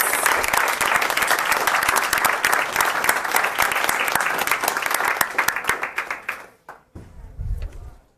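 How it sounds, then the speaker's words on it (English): An audience at a school board meeting applauds the parents and families of student athletes, a steady wash of many hands clapping that holds strong before tapering off, followed by a brief low rumble and murmur. "let's give a round of applause to all the parents and families of our athletes"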